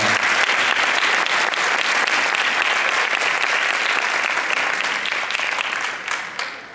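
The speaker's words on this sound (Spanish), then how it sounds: "Le damos un fuerte aplauso" An audience at a charity concert applauds loudly and continuously, the clapping staying full for several seconds before thinning and tapering off at the end.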